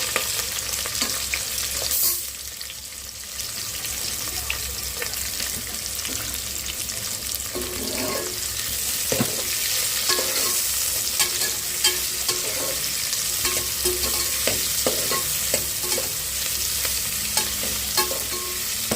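Onions and green chilies frying in a pan, a constant close sizzle with frequent scraping stirs and small clicks over about twenty seconds, no talking.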